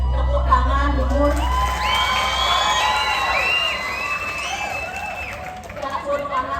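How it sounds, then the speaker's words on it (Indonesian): An audience at a Balinese drama gong performance claps and cheers, with scattered shouts and whoops that rise and then fade. Voices call out over the crowd noise. "tepuk tangan dulu"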